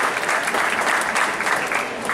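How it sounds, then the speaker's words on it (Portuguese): An audience at an Arduino Day event in a São Paulo cultural centre claps in a dense, steady round of applause, close and continuous. "Uma salva de palmas"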